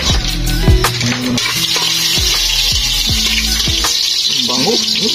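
Browned garlic and other ingredients sautéing in a hot pan, a loud continuous sizzle and crackle close by, broken by repeated scraping stir strokes, with a voice faintly audible at moments.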